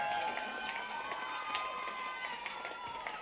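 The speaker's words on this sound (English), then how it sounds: "Can you give all of these amazing performers a massive round of applause?" A crowd at an outdoor Carols by Candlelight concert applauds its carol performers with a continuous wash of many hands and a little cheering, heard from a distance and steady throughout.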